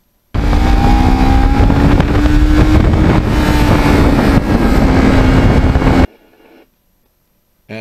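Kawasaki Ninja 650R motorcycle ridden along back roads, its engine droning loud and steady with rising and falling pitch amid heavy wind rush, then cutting off abruptly near the end.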